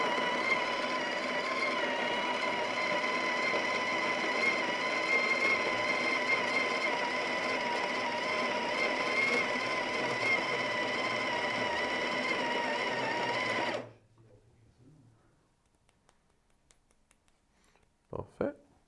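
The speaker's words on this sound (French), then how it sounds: "Et ici, on peut recommencer pour moudre la bonne quantité du café." Sage coffee grinder grinding coffee, a steady loud whirring hum for about fourteen seconds that stops abruptly, followed by near silence and a couple of faint clicks.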